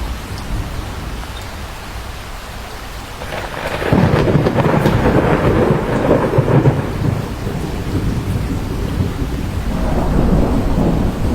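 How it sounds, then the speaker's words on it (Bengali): A cartoon thunderstorm effect for a stormy evening in a horror cartoon: a steady hiss of heavy rain with rumbling thunder that swells into a louder, denser roar partway through and then stays strong, with no voices. "এই ঝড় বৃষ্টির সন্ধ্যায় কোনো রিক্সা বা গরুর গাড়ি পাবো বলে তো মনে হচ্ছে না"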